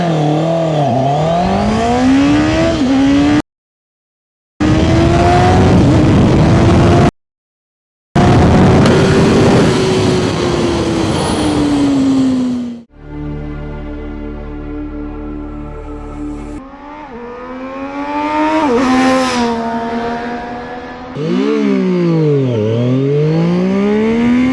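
Racing motorcycles including a QJMOTOR 800 SRK, engines revving and sweeping up and down in pitch as they accelerate and pass, loud and close, with brief dropouts and a steady tonal drone in the middle.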